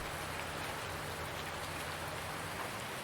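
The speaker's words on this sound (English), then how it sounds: "even though it's raining out" Steady rain falls in the Farming Simulator 19 video game, a constant, even hiss of dense raindrops at moderate level, with no voices.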